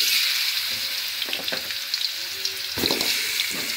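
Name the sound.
meat being sautéed in a wok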